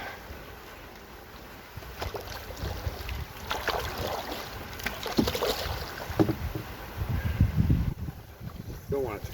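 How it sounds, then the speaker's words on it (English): A wooden paddle pushes a canoe through water on a lake, giving soft irregular splashes and swishes over wind buffeting the microphone, close by and moderate, with a person talking at times. "I had to bring out the wooden paddle so I could push a little bit"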